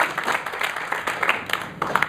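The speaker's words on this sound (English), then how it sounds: "Please don't clap" An audience at a film festival panel breaks into applause, a moderate and steady patter of many hands clapping with occasional louder individual claps.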